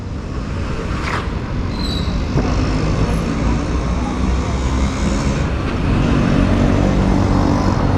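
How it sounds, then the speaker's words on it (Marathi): Loud, steady roadway rumble of vehicles passing nearby on a street in Ambernath East, swelling as traffic moves past, with a faint horn-like tone early on. "गाड्या आल्या की थोडा लाऊड येतो"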